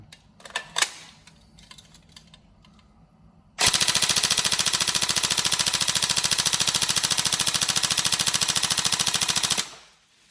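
A Tokyo Marui 416 Delta NGRS airsoft electric rifle on a standard setup fires one long, fast full-auto burst of about six seconds, loud and close, after a few quieter handling clicks and knocks.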